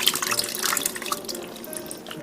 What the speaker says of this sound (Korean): 남아있는 국물을 쪼르르 부어주세요.